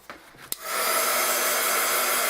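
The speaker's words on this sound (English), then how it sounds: "Now, I'm going to hit this with the heat gun." A heat gun blows hot air to dry gesso on a craft project. A couple of brief clicks come first, then the gun starts up into a loud, steady, close whooshing roar that holds to the end.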